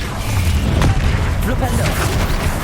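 A Confringo fire spell in Hogwarts Legacy detonates among rapid combat spells, loud booming bursts stacked close together under shouted voices in the thick of a battle.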